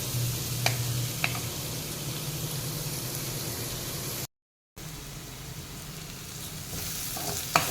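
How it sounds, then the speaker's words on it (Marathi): Onion sautéing in a pan gives a steady, close frying sizzle with occasional light clicks of a stirring utensil, broken by one brief silent gap before the sizzle resumes. "एखाद मिनटं आपण हा कांदा परतून घेऊयात"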